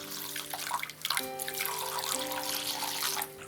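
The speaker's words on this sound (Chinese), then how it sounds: "用清水清洗干净。" Millet is rinsed under clean tap water running into a bowl, a steady close splashing gush with a faint tonal ring, continuous for the few seconds without voices.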